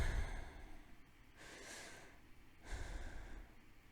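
Two slow, audible breaths, each a soft rush of air lasting about a second, heard alone in a quiet pause from a woman recounting a birth with a nurse and researcher nearby.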